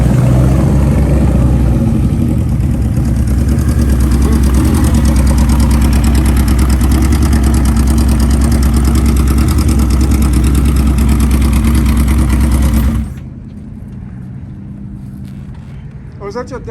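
A Kawasaki motorcycle engine idles steadily at an outdoor car and bike show with a loud, constant low rumble, then cuts off abruptly near the end, leaving quiet ambient noise.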